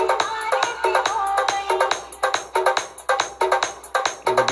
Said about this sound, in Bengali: এবারে হর্ন সাইডটা শোনাচ্ছি।